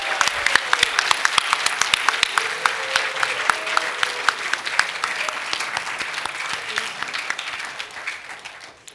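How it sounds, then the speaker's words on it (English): Audience at an Asian American awards ceremony at Stanford applauds the student, faculty, staff and alumni recipients, sustained crisp clapping with many distinct individual claps, fairly close and steady throughout. "Please join me in giving another huge round of applause for all of our amazing undergraduate, graduate, faculty, staff, and alumni recipients."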